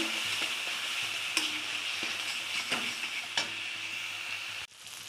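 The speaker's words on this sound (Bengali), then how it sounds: "এবার একসাথে আমি এগুলো ভালো করে কষিয়ে নেব।" Green chillies and ginger paste frying in a pan, a continuous close sizzle with a few soft stirring scrapes and clinks, ending abruptly.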